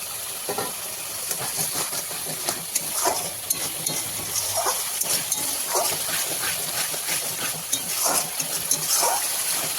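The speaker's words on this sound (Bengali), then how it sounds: "মশলাটা আমি ভালো মতন কষিয়ে নেবো যাতে তেল ছাড়ে" Spice masala for mutton korma fries in oil in a pan, a steady hiss and sizzle running throughout with repeated soft scraping strokes of stirring, close and continuous.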